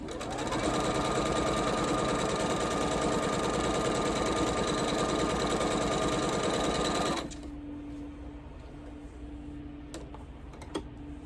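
A sewing machine runs steadily for about seven seconds, stitching through a Lori Holt quilted scarecrow quilt, then stops abruptly, leaving a quiet room with a couple of faint clicks near the end.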